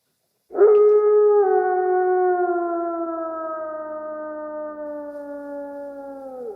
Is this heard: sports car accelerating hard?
no